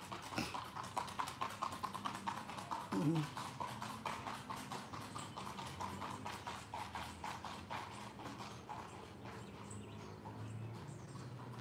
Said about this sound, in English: Okay, I can hear the horse coming.